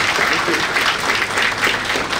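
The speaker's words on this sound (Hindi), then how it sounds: "ताली तो बजा दो." An audience in a guest-talk hall breaks into applause, a dense, steady wash of many hands clapping together for a couple of seconds, fairly loud and close.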